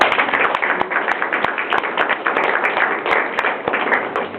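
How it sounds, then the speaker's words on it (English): An audience gives a round of applause for a guest speaker, a close, even patter of hand claps with a few sharper individual claps standing out, continuing steadily without talk. "let's give a round of applause"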